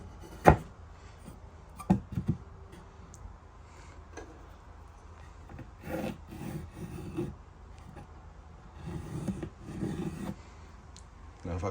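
Scribing a line onto timber for a bench in a camper van conversion: quiet, intermittent scratching and rubbing strokes on wood with a few sharper taps, close by and without talk.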